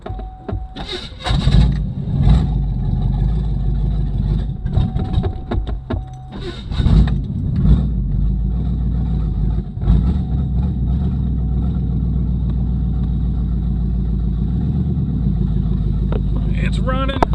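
A 2006 GMC Envoy with a swapped-in small block V8 starts and settles into a steady, loud idle close by, with a brief engine surge and clunks partway through and a voice talking over it.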